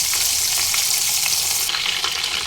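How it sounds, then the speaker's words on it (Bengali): A pomfret fish fries in oil on a low flame for a masala fry. The sizzle is loud, close and crackling and never stops, and no one speaks. "লো ফ্লেমে এক সাইড ভাজা হতে দেবো"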